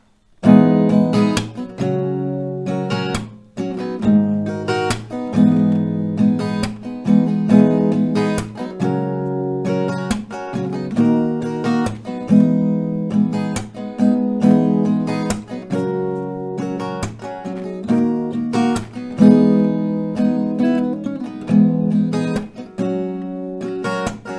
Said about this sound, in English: So a couple of rounds with this chord progression with strumming sounds like this.